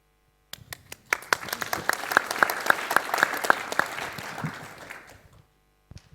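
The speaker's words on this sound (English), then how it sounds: "I have to clap for my husband" Business event audience in Melbourne breaks into applause: a few sharp lone claps first, then a full burst of crowd clapping that swells and fades out, followed by one or two stray claps.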